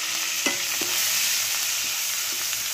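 Curry leaves and turmeric hit hot oil with okra in a pan for bhendi fry, giving a steady close sizzle with a few soft stirring knocks and no voices.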